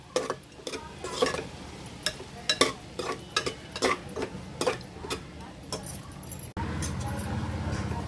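Rice and vegetables for a pulao are stirred in a pan, with a run of clinks and scrapes from a spoon against metal and a louder steady hiss near the end.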